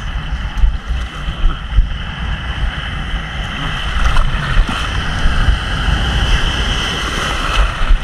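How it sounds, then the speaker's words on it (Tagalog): Strong waves wash and slap around a small fishing boat at sea, a continuous loud churning wash with wind rumble and occasional surges, close to the listener and with no voices. "Malakas ang alon."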